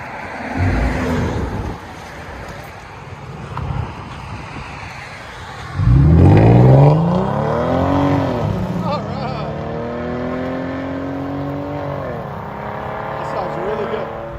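A 2015 Chrysler 200 S V6 with dual exhaust and its muffler resonator cut off, heard from inside in sport mode as the engine revs up loudly and holds a rising, droning note, with some talk at the start.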